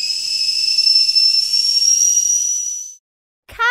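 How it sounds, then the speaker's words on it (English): A loud, steady high-pitched kettle whistle holds for about three seconds, then cuts off; after a short silence a brief rising tone begins. "Kettle."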